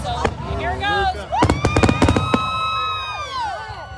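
Fireworks at a Fourth of July show pop in a quick cluster of sharp, loud bangs with crackles, heard under excited crowd voices and nearby people talking and calling out.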